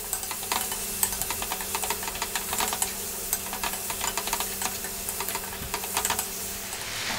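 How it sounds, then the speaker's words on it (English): Tomatoes cooking down in a pan over lively heat for chicken channa curry, with a soft steady sizzle and frequent clicky stirring taps scattered throughout, close and moderately quiet, with no talking. "Staying on this lively heat, want to cook those tomatoes down a little bit"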